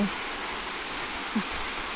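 Steady broadband rush of a waterfall in a damp, shaded hillside spot near Fraga, Arganil, Portugal, continuous and even throughout, with no voices over it.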